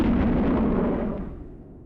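Concorde supersonic airliner's sonic boom heard from the ground below, a single loud, deep bang that rolls away and fades over about two seconds.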